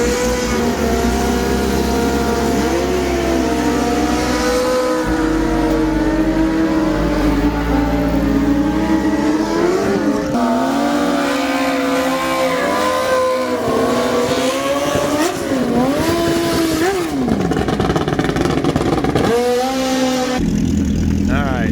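A Kawasaki ZX10 drag racing motorcycle making a pass at a drag racing world finals event, its engine howling loud and continuous, revving and shifting through rising and falling pitch sweeps for the whole stretch, with a commentator talking over it.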